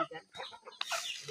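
Chickens cluck briefly and close at a home yard in the morning, with a sharper squawk near the end amid some background voices.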